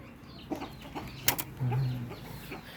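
A hen that has only recently been separated from her chicks gives soft, scattered clucks over a few seconds, fairly faint and close, with no voices.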